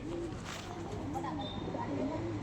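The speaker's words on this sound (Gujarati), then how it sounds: "જો કબૂતર" A pigeon coos softly in low repeated rolling calls, faint against steady background noise, with a voice talking quietly at times.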